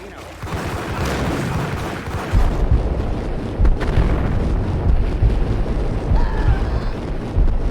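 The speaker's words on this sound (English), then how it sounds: "That was an explosion." A big video-game explosion in Max Payne, a loud sustained roaring blast with deep rumble that carries on and slowly settles, with fainter debris and background noise toward the end.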